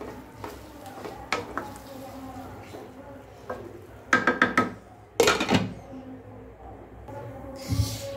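Ghee being stirred in a cooking pot for fried rice, with scattered metallic scrapes and clinks of a utensil against the pot, a few louder clattering bursts, and faint sizzling between them, close by.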